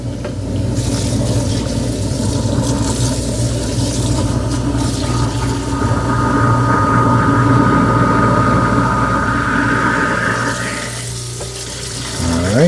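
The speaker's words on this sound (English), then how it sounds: "I'll run some more hot water through here for a little bit. Turn my garbage disposal off." Kitchen garbage disposal grinds continuously with hot tap water running into the sink, a steady mechanical whir and rattle over rushing water that drops off near the end as the unit is switched off.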